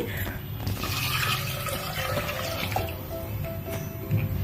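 Roughly four and a half cups of water pour into a cooking pot, making a steady close splashing and gurgling that runs throughout.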